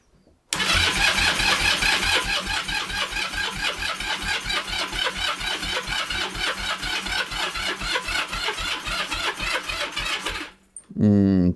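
A Kawasaki Z400 motorcycle engine cranks on a low battery with choke on, a long, loud, rapid rhythmic churning of the starter that runs without catching, then stops abruptly before a brief burst restarts.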